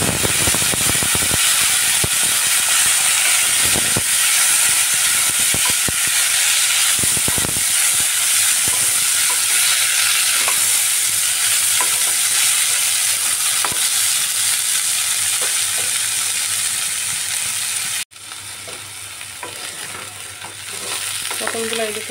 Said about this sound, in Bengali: এই তেলের মধ্যে এবার আমি পটলগুলো ফ্রাই করে নেব